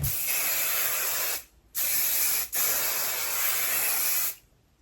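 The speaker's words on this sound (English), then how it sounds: "So I spray a copious amount." Three bursts of aerosol hair product spray hiss close by onto thick curly hair, the first two short and the last longer, separated by brief silent pauses.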